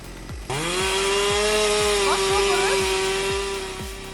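A chainsaw cuts a tree during a risky job, its motor droning loud and steady close by with pitch shifts as the cut loads it. A rhythmic low knocking repeats beneath it.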